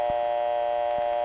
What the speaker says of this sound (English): The dial tone